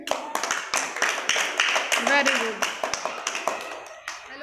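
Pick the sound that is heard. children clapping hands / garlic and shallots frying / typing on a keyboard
children clapping hands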